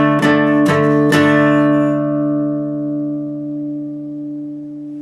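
Down-up-down-up strumming on a guitar for a song: three quick strokes in close succession, then the chord rings out and slowly fades over several seconds, with no voice over it.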